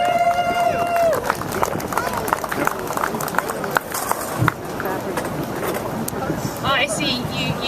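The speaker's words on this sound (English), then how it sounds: "So how about a big round of applause, ladies and gentlemen, for Liquin" An outdoor crowd at the 2016 Veggie Pride Parade claps for a speaker. A brief spoken voice opens, then sustained, textured applause with scattered sharp claps continues to the end.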